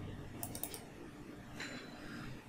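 A computer mouse clicks on a software setup file on a PC. Soft, quick clicks come in a small cluster, then one more click follows, faint over a steady background hiss.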